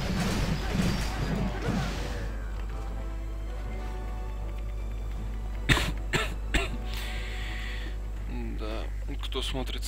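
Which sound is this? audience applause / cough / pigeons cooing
cough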